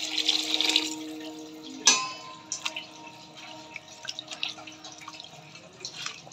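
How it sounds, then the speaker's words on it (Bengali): Water is poured into a pot of broken rice mixture while cooking, a soft running and dripping splash with a metallic clank, close by and fairly quiet. "এখন আমি জল দিয়ে দিব"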